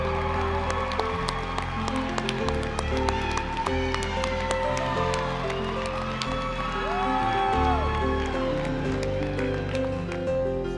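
Crowd applause and cheering at a state convention session for past state officers, steady dense clapping throughout under loud music, with occasional whoops rising above.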